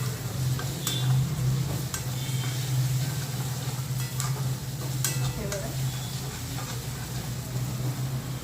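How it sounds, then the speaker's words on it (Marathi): Sliced onions sizzle steadily in a pan while being stirred until golden for a dhaba-style baingan masala, a constant close frying hiss broken by occasional sharp scraping clicks of the spoon. "मस्त सोनेरी रंग येईपर्यंत कांद्याला हलवून घ्यायचं"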